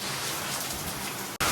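Heavy monsoon rain pours down outdoors, a loud, dense, continuous roar of drops on surfaces with a brief cut near the end.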